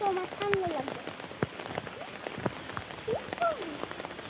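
Rain patters steadily on a village road while someone walks along it, a soft broadband hiss under intermittent voices and brief pitched calls.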